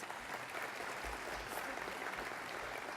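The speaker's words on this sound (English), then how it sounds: "A round of applause for these ladies" Steady, fairly soft audience applause fills an agricultural congress hall as women from a leadership program are honoured, a dense even patter from start to finish with no talking.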